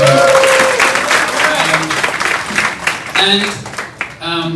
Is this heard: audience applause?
yes